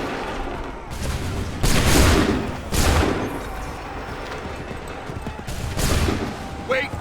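Musket volleys from soldiers in the video game Assassin's Creed III: several loud, booming bursts of massed gunfire come in separate waves over a steady din of battle, with voices shouting commands in between.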